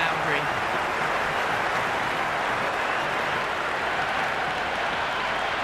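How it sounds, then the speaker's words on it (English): A stadium crowd in the video game Cricket 26 during an India versus South Africa one-day international, a continuous broad roar of cheering and applause from the stands, steady throughout. "There's a buzz, a real buzz coming from the stands."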